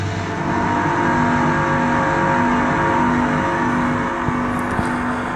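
Game sound effect with distortion and reverb pushed all the way up, a dense, loud, continuous engine-like roar with heavy cavernous wash and a few faint clicks near the end, no talk.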